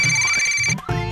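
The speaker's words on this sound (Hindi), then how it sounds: "ये मेरी रिंग है। फोन कहाँ है?" A mobile phone ringtone rings loudly and steadily with a bright melodic tone, a brief dropout near the end, then resumes, in an indoor scene from an Indian children's fantasy TV serial.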